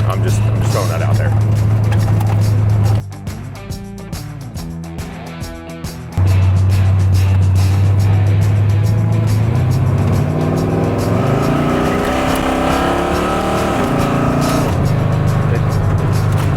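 A car fitted with a newly installed MSD Pro Billet distributor drives along under a loud, steady engine drone that rises and falls with brief revs and a short dip, while someone talks over it.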